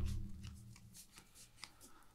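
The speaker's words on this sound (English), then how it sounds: "So I draw 5 cards." Cards drawn from a deck during a Flesh and Blood trading card game match, a few quick soft slides and flicks close by after a low thump.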